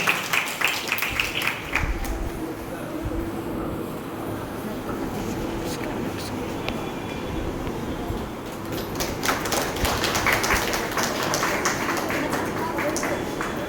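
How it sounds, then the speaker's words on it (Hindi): Audience clapping at a student ceremony, a moderate, steady applause that swells toward the end, with a voice speaking through it. "आप सभी जोरदार तालियों से स्वागत करें जूही का।"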